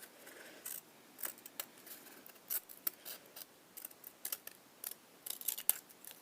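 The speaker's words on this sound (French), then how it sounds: "J'ai le ciseau qui couine. C'est normal, il a 30 ans" Thirty-year-old scissors cut scrapbooking paper, giving sharp squeaky snips and clicks scattered irregularly over a quiet background, close and fairly faint, with no voices.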